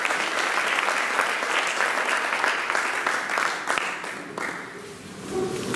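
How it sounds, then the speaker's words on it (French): A church congregation applauds in a dense, sustained wave of clapping that continues steadily and then tapers slightly at the end, fairly close and full. "On acclame le Seigneur."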